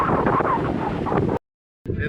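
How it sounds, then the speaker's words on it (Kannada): Gusty wind at sea buffets the microphone with a low, rough roar, dropping out briefly before resuming. "ಈಗ ಬೆನ್ನಲ್ಲಿ ಗಾಳಿ ಸ್ಟಾರ್ಟ್ ಆಯ್ತಲ್ಲ"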